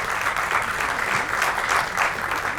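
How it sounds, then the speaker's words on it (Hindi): Theatre audience giving loud, sustained applause as a cast member of a stage play is introduced, a thick, even roar of clapping filling the whole moment. "जोरदार तालियां मुझे"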